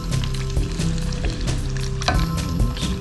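Chicken pieces fry in a pan with a steady, loud sizzle and crackle, broken by occasional clicks and scrapes as they are turned, with no talking.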